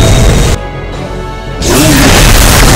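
A weapon launch in Fate/Grand Order ends in a loud, full-spectrum explosive blast that drops off briefly, then surges back into a sustained roaring crash.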